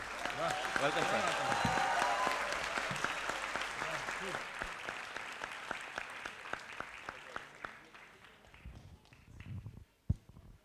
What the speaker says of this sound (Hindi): तालियों की गुंज से समा जरा सा बांध लो प्रसून जी को आज हम ये मंच पे बुलाते हैं